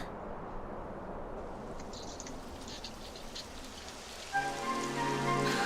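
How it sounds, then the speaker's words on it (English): Rain patters steadily on surfaces in Dragon Quest 11S, a soft, even hiss of drops throughout, with a tonal game music cue rising in near the end. "It would have to go and start raining, wouldn't it?"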